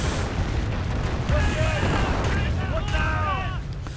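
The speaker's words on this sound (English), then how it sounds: "And another Calliope barrage." Calliope rocket artillery barrage in a wartime strategy video game, a dense run of booming blasts and whistling rocket streaks layered over continuous battle noise, with a commentator talking throughout.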